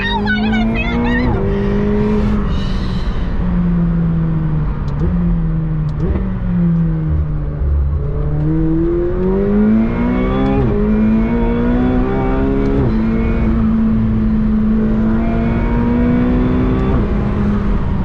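A 2021 McLaren 720S accelerates hard, its engine note climbing and sweeping through rising harmonic bands, loud and close throughout, with road and cabin rumble underneath.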